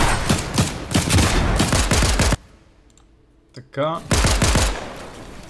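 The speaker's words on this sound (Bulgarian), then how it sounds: "Хвърляме гранати и почваме да го стреляме." Rapid bursts of automatic gunfire in the video game Fortnite, loud and dense for about two seconds, then a quiet gap with a brief spoken word before another heavy volley of shots.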